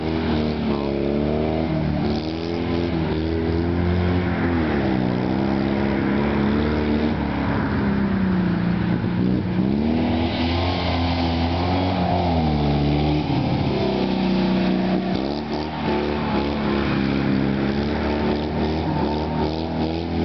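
Fiat 126p rally car engine in a small rally event, a continuous nearby rasping drone whose pitch rises and falls as the throttle is worked, with people talking over it.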